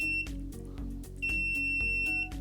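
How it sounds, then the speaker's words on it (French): A Sunlu FC01 filament connector gives a series of short electronic beeps, evenly spaced and close, repeating steadily in two bursts separated by a brief pause. "il va y avoir quelques bips"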